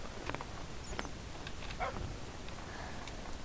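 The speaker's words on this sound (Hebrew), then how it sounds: "קדימה כלבים." Dogs in the Minecraft video game give a few short, faint barks and yips scattered over a few seconds against a steady background hiss.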